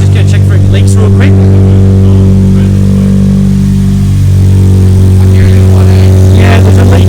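Honda Integra Type R DC5 fitted with a BYP Racing 70mm titanium exhaust that has a leak runs loud and close, a deep steady engine drone with strong harmonics that dip and rise again midway, with people talking nearby.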